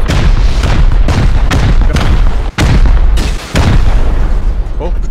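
Rocket explosions in the video game Rust: a rapid series of loud, heavy booms, roughly a dozen blasts in quick succession, close and dominant.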